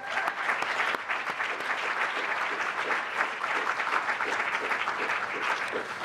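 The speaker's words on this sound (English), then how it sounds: "Please give her a big round of applause again" Sustained audience applause at an awards ceremony, a dense, steady wash of clapping from a large crowd that holds at even loudness for about six seconds with no talk over it.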